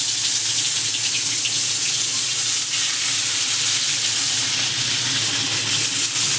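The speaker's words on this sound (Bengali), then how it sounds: "তো মাছগুলো এবার ভাজা হতে থাকুক" Koi fish fry in hot oil with a loud, dense, continuous sizzle and bubbling crackle, steady and close throughout, no voices.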